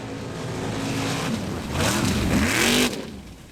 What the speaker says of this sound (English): Drivers have a route to drive through a very, very wet and muddy swamp.